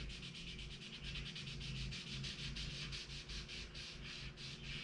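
A painted motorcycle fairing on an Ultra Limited is hand-sanded with 2000 grit sandpaper, making quick, rhythmic rubbing strokes that repeat steadily and sound faint and close.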